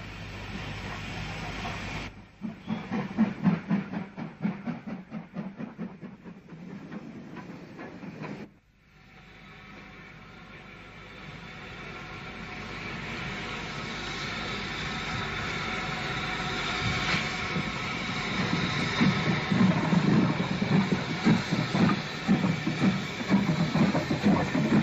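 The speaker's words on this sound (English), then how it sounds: "A southbound service appears." A Southern Railway southbound train hauled by a tank engine arrives, a steady rumble and clatter of wheels on rails that grows gradually louder and closer, with rhythmic clicking throughout.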